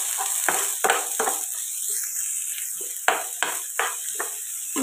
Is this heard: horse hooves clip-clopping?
no